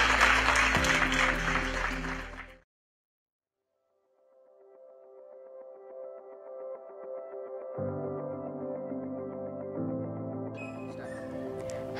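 An audience at a Navratri celebration stage show claps for a performer in a burst of dense applause that cuts off after about two seconds. A stretch of silence follows, then soft sustained music rises.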